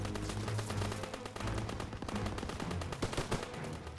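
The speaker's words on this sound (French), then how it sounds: "Je vais faire taire cette mitrailleuse." Machine gun fire in the video game Call of Duty WWII: dense rapid bursts of automatic gunfire crackle continuously, with heavier shots mixed in, and no talking.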